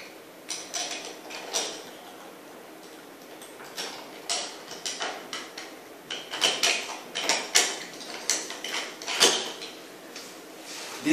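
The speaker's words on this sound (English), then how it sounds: "We are going to take the bolts, attach them in the anchor." Bolts for a HOMETEC swivel wall plate are hand-driven into wall anchors, giving close, repeated clicking and ratcheting scrapes in uneven bursts, with no talking.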